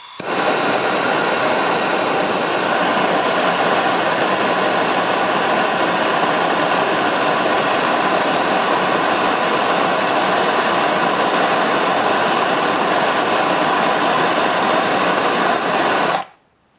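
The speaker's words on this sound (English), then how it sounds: "now what I'm going to do is melt some solder with my propane torch" A propane torch roars steadily and loudly for about sixteen seconds as it heats a battery terminal lug to melt solder, then cuts off abruptly at the end; no one speaks.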